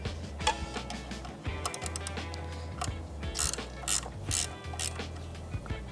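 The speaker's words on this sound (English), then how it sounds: "I'm just unthreading the kickstand bolt." Ratchet unthreading the kickstand bolt on a Ducati Streetfighter V4 motorcycle, close rapid clicking in several bursts separated by short pauses, with faint metallic ticks between them and no talk.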